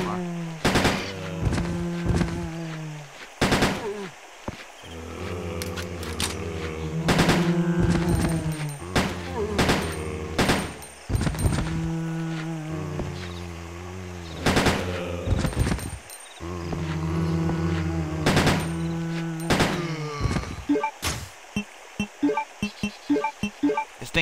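Three-round bursts of gunfire in Resident Evil Code Veronica X come as repeated sharp triplet volleys over about twenty seconds, loud and close, ending in rapid single cracks, with someone talking between the bursts.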